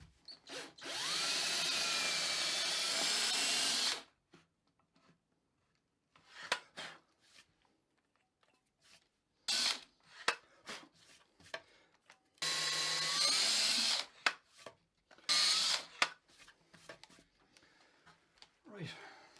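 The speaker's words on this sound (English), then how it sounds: "So now we can drill them in." A power drill bores holes through a guitar body for bridge hardware, with two long, loud whirring bursts separated by short clicks, handling knocks and brief talk.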